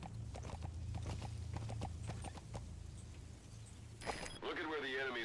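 Horse hooves clip-clop steadily at a walking rhythm in the Metal Gear Solid V video game, moderately close and continuous, with someone talking over them and a brief electronic tone near the end.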